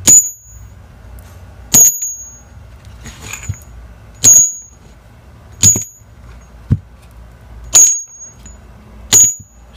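Engelhard silver bars are struck together in a ring test, giving six sharp metallic pings at regular intervals. Each ping leaves a bright ringing tone over a quiet background.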